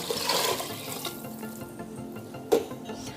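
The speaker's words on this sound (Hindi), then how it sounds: "अब इसमें हम पानी डाल देंगे।" Water splashes and trickles steadily into a pressure cooker for dal khichdi, with a brief louder splash near the end.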